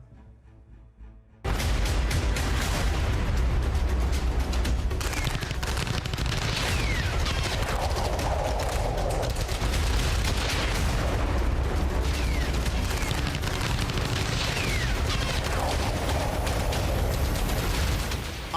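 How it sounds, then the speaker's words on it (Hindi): Continuous barrage of war gunfire and blasts from tanks, artillery, helicopters and rockets in the Afghan war, loud and dense after a brief quiet start, with rapid volleys and booming explosions running throughout. "आग उगलते टैंक, तोप से बरसते गोले, बेतहाशा बारूद बरसाते हेलीकॉप्टर, ताबड़तोड़ रॉकेट के धमाके"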